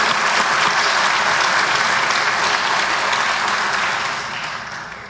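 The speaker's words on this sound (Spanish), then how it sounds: "De verdad le vamos a dar un gran aplauso a Pascual por estar acá en la tertulia." A room of people gives loud, sustained applause at a Buenos Aires tertulia gathering, steady clapping alone that fades toward the end.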